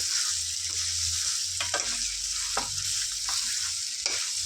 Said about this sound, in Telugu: చికెన్లో మంచి కలర్ వచ్చే వరకు ఫ్రై చేసుకోవాలి